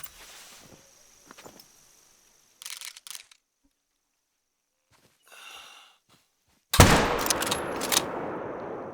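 A 7mm hunting rifle fires a single loud, sharp shot in a theHunter: Call of the Wild blacktail hunt in Layton Lakes, after quiet game rustles and clicks, with the report ringing out and decaying.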